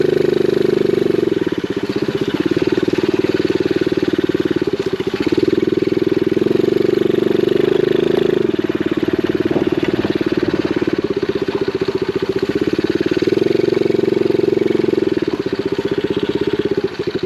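An X7 super pocket bike's small engine runs steadily and loudly up close while being ridden, with a continuous buzzing drone and slight rises and dips in pitch throughout.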